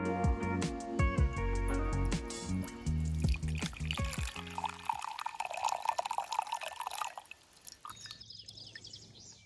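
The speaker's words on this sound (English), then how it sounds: "Now pour yourself a drink." A drink being poured, with liquid trickling and splashing at close range that grows clearer in the second half, at first partly masked by tonal music playing over it.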